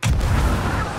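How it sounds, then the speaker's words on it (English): A ship's cannon fires in the pirate video game Sea of Thieves: a single loud, close boom that rolls off into a rumbling tail, with no talking over it. "He chose the cannon."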